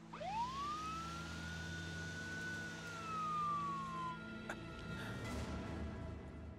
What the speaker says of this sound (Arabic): شغل زمور الاسعاف وشغل الاضويه كمان احلى